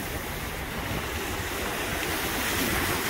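Lake Erie waves washing against the shoreline, a steady close roar of surf and wash with wind buffeting the microphone, no voices present.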